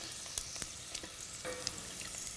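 Rice balls sizzle and crackle steadily in hot oil, with scattered sharp pops and spatters over a constant frying hiss.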